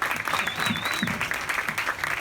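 Audience applause at a comedy show, a steady wash of clapping from a room of people, fairly loud and continuous with a whistle briefly riding over it.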